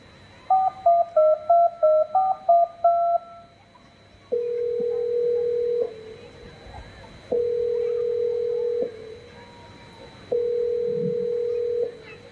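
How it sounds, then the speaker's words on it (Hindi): A phone line rings with repeated steady tones, each lasting about a second and a half with gaps between, after a short burst of dialing beeps. Nobody picks up. "हाजिरा जी, मेरे बच्चे को कॉल लगाइए ना"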